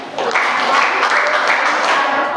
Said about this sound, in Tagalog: Bigyan natin ng 5 palakpak si Del.